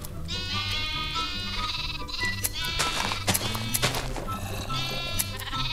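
Sheep in the video game Minecraft bleat several times in quick succession, wavering nasal calls close up over a steady low game background.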